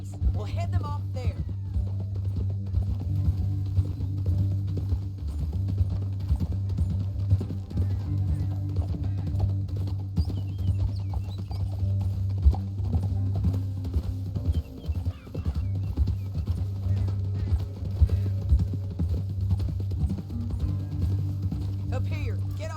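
Horse hooves clip-clopping at a gallop in the video game Red Dead Redemption 2, a steady rhythmic beat running under a constant low drone and game score throughout.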